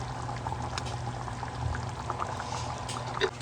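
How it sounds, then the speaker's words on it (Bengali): Kasundi mustard sauce poured into a pot of chole curry, a soft, continuous liquid pour over a low steady kitchen hum with a faint sizzle. "দেবো কাসুন্দি।"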